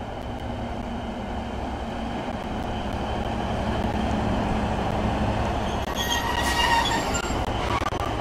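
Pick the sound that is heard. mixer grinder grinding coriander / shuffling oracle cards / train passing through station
train passing through station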